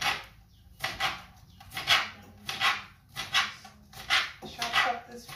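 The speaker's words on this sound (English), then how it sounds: "dog." A dog in a home kitchen during cooking barks and yips repeatedly in short, fairly close bursts roughly every half second to second, mixed with some talking.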